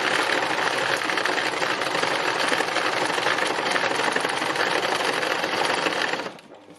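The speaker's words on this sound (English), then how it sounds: "free machine embroidery is really helpful because you can do a little bit of, say, one shade there" A sewing machine running steadily through free-motion embroidery, a dense, fast, even mechanical stitching drone heard up close and alone for about six seconds before it stops abruptly.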